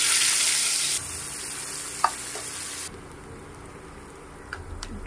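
Nigella seeds (kalo jira) frying in hot oil in a home kitchen, a steady close sizzle with a sharp pop near the middle and a few small crackles toward the end, no talking.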